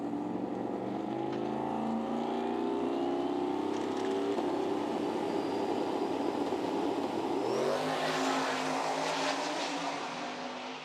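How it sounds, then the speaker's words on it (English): A drag race car, Haas' machine at US Street Nationals in Bradenton, sits at idle alongside another car, its engine rumbling loud and continuous, with throttle blips and rising revs near the end. "A little smoke out of the exhaust for Haas' car here at Idle"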